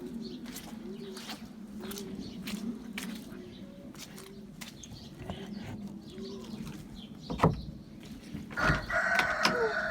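A rooster crows loudly near the end, following a stretch of soft, repeated low cooing from other birds, on a snowy, rainy day.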